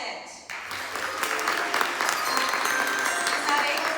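Audience applause greets a newly introduced third grade teacher at a school's new teacher draft event, a dense, steady clapping that swells in after a brief quiet start and holds loud to the end.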